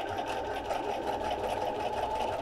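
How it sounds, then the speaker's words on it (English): A sewing machine stitches along a fabric seam for a cross-stitch ornament, its steady, close, rapid mechanical whirr running continuously without pause. "I'm going to sew right along this seam all the way around."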